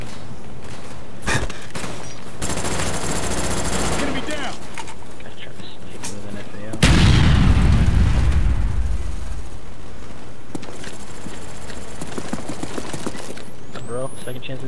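Call of Duty multiplayer gunfire comes in a sustained loud burst of rapid automatic shots, plus another dense volley with heavy low booms midway, while a player talks quietly over the game sounds.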